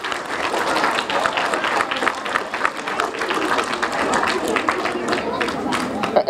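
A school audience at an elementary career day breaks into lively applause, dense clapping mixed with cheers and crowd noise that carries throughout.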